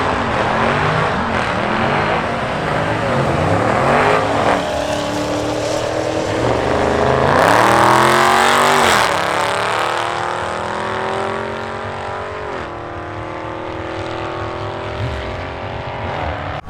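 A Dodge Charger Scat Pack launches down a drag strip, its loud engine climbing through repeated rising gear sweeps before a long wailing pull that fades slightly toward the end.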